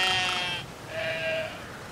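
Two sheep bleats in the video game Brothers: A Tale of Two Sons, a longer call followed by a shorter one after a brief pause, close and clear over quiet ambience.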